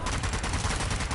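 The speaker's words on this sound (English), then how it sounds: "Machine gun! Get out of the way!" Machine gun fire in Zombie Army 4: Dead War sounds as a loud, rapid and continuous rattle of shots with no pauses.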